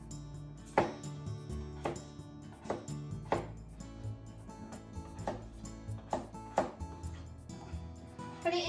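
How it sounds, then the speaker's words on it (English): Potatoes being chopped into small pieces with a knife on a cutting board, a series of sharp irregular knocks close by in a quiet kitchen. "Let's cut it into small pieces."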